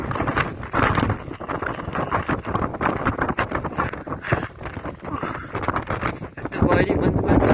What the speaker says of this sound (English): Just now the wind blows me over the edge.